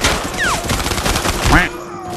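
Bursts of FAMAS rifle fire in the shooter game Arena Breakout crackle in rapid succession, loud and close, with brief whooshing effects and a voice faintly underneath.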